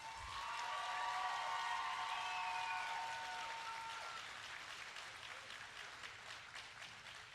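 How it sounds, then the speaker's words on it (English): A crowd claps for graduates at a high school graduation ceremony for the Class of 2019, a dense sustained round of applause that swells early, then slowly thins and softens, with a few whistles near the start. "help me give a round of applause to our graduates"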